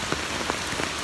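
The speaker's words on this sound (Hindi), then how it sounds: "और बाहर बहुत बारिश हो रही है." Heavy rain falls outside as a dense, steady hiss of drops hitting surfaces, with a few slightly louder spatters over the short stretch and no voices.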